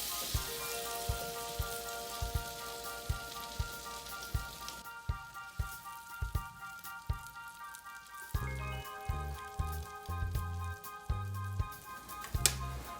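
Egg-soaked French toast with a strawberry cheesecake filling sizzling on a hot grill: a steady, quiet crackle with scattered pops and spits, close by and without speech.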